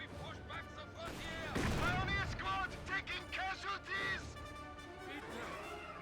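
Battle sounds from Company of Heroes 2 with mortar fire: scattered gunshots and a heavy impact burst near the middle, fairly quiet and distant, with whistling tones over a low rumble.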